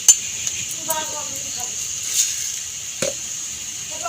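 A spoon stirs turnip and potato curry in a pan, giving a few light scrapes and clinks over a steady sizzle. A voice is briefly heard in the background.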